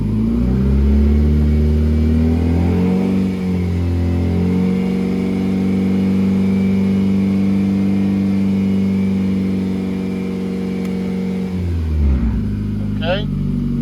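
A Nissan Juke engine is held at a steady 3,000 RPM, a loud continuous mid-pitched drone with a slight wobble in tone before it drops back to idle near the end.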